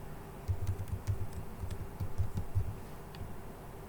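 Computer keyboard keys tapped in a short burst of typing while a password is entered, a quick uneven run of close, crisp clicks with no talking.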